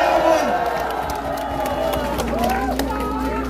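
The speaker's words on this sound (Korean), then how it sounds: "여러분 큰 박수로 맞이해 주시기 바랍니다" A large crowd at a presidential election campaign rally cheers and shouts loudly in a dense, continuous roar, with raised voices chanting over it.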